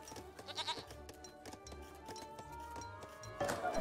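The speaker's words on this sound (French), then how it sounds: "Les chèvres peuvent se barrer" Goats bleat in the strategy game Age of Empires 3, with several short nasal calls over busy game music and effects, fairly close and moderately loud.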